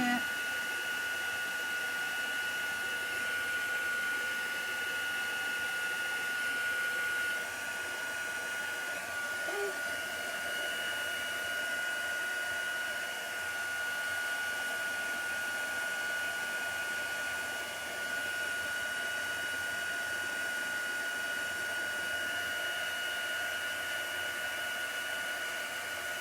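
A hair dryer runs steadily and close for the whole stretch, drying chalk paste in a craft session, its constant whirring hum barely wavering.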